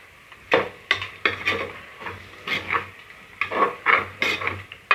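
A spoon stirs masala and yogurt in a pressure cooker for chicken biryani, giving repeated scraping, clinking strokes against the metal pot in an uneven rhythm, close and fairly loud with short pauses between strokes.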